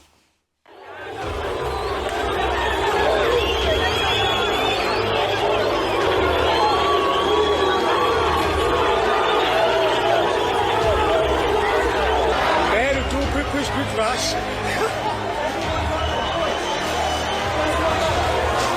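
A large, loud crowd roars and shouts continuously during xenophobic riots as people loot shops, a dense unbroken din of many voices with yells rising above the mass.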